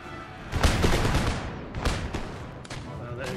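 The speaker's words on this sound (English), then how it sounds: "Go on, men. Open fire." Ragged musket volleys crackle in dense, overlapping bursts across a line of troops in the Empire Total War battle, loud and continuous with a second wave of firing partway through and faint voices underneath.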